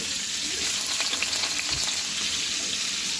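Onions frying in about a quarter cup of mustard oil in a wok for a fish curry with drumsticks and pointed gourd: a dense, constant, close sizzle with no talking.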